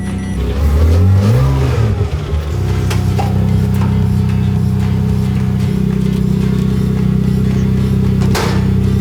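A cheap Ferrari's engine fires up at once with a rising rev, then settles into a loud, steady idle that stays close and continuous, with a brief sharp knock near the end and no voices.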